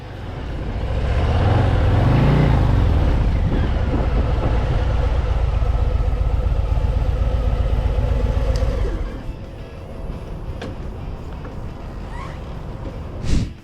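A Harley-Davidson Low Rider ST with its 117 cubic inch V-twin engine rumbles steadily at close range, a deep continuous drone that eases off near the end.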